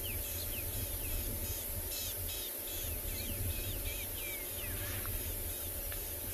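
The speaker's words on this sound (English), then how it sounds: "There's a very noisy rattling cisticola going chee," Rattling cisticola calling chee chee in South African bush during an afternoon safari, a fast series of thin, high rattling notes repeated steadily at moderate distance over a constant hiss of insects.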